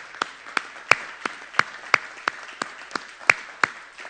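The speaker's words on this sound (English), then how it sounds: "if you're going to clap, let's clap" A church congregation clapping together in a rhythmic pattern, many hands striking in time at a steady, slightly uneven beat, with a constant room wash underneath and some claps ringing brighter than others.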